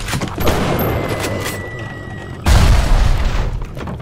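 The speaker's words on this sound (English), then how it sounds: "who the hell's throwing fucking grenades?" Grenade blasts in the video game BioShock, a heavy booming explosion rumbling through a noisy game scene with a second deep concussive burst partway through, loud and close.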